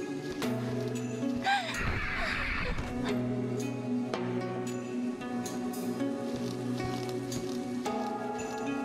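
A bird in the video game Devotion gives a raspy caw near two seconds, set against a dense layered background of tonal ambience and scattered clicks, with no talking.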